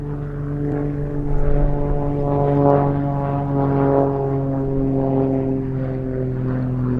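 A Grob 115E Tutor, a carbon-composite trainer with a 180 horsepower Lycoming piston engine, drones steadily overhead during a flying display at an air festival, its propeller hum rising and falling as it manoeuvres.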